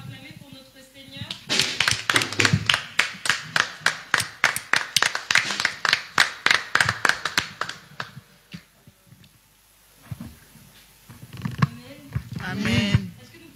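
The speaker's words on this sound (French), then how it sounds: "On va acclamer pour notre Seigneur." Church congregation clapping in a steady, rapid rhythm with loud sharp claps for several seconds, then fading into quieter murmurs and a renewed swell of cheering and voices near the end.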